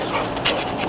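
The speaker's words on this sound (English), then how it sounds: "There's 3 dogs here." Dog panting on grass at a workshop grounds with other dogs around, a short run of quick breaths close by and moderately loud.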